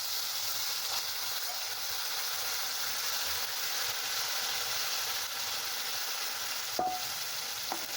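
Chickpeas with spices and garlic chutney cook in a pan under a constant close sizzling hiss, with a couple of faint utensil clinks near the end.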